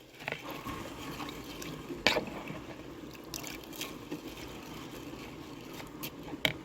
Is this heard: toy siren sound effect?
no